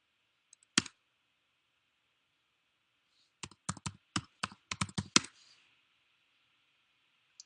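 A burst of rapid keyboard typing: one lone keystroke, a pause, then a quick run of a dozen clicking keys, close and crisp over faint hum.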